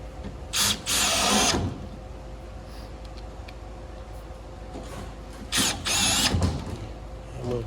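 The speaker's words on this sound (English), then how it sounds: "just going to secure it with two screws now" A power drill drives screws into a cast house stump in two short bursts of high whirring, each lasting about a second, separated by quiet background hum.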